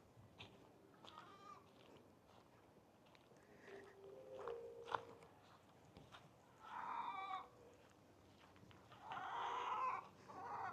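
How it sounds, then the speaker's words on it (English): Faint farmyard sounds: a rooster's drawn-out crowing calls rising twice in the distance amid soft scattered clucks and rustling. "We got this here cock."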